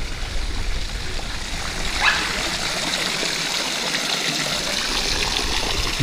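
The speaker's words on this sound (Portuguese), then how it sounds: "Eu gosto dessa quedinha aqui." A small freshwater waterfall in Iguape, São Paulo, pours in a steady, loud, unbroken rush of water from close by, with no voices.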